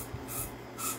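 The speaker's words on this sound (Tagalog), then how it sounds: "Silicone dito, sir. Spray lang, konti lang." Silicone spray squirted in two short hissing bursts onto a part during an unboxing review, close and fairly quiet, with no talking over it.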